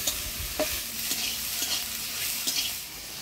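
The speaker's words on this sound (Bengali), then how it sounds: "তেলের মধ্যে হলুদ লবণ দিয়ে সয়াবিনটাও ভেজে নেব" Soybean chunks frying in hot oil with turmeric and salt, giving a dense, continuous sizzle broken by a few soft stirring taps and scrapes.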